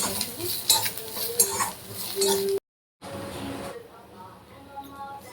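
Bitter gourd bhaji stirred and roasted in a pan gives a steady scraping, sizzling rustle with a few spoon clinks, then a brief silent gap before softer stirring resumes.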